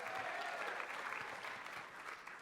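A crowd at a live talk event applauds steadily, dense clapping holding at a moderate, slightly distant level for the few seconds heard.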